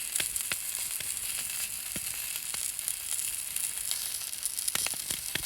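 Bratwurst sausages sizzle steadily on a hot griddle outdoors, a dense continuous frying hiss with scattered sharp pops and crackles, close and fairly quiet, with no talking.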